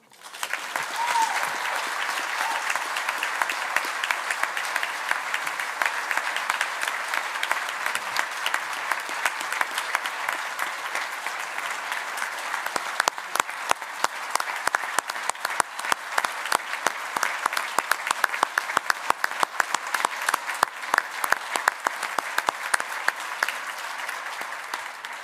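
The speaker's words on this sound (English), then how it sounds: "Let's give one more round of applause for all of our honorees tonight." Sustained applause from a large crowd at an alumni awards reception, steady dense clapping that continues for the whole stretch with no talking over it.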